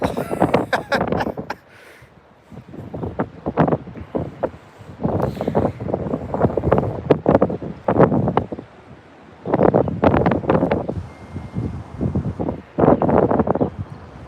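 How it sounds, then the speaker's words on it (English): Gusty wind buffets an outdoor microphone at a railfanning spot, coming in loud roaring bursts separated by brief lulls, with no clear talk over it. "today it's going to be a gusty day, so it's already causing problems"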